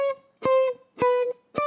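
Electric guitar picking single notes on its high string, three short plucks spaced evenly, each note cut off quickly instead of ringing, clear and close with no voices.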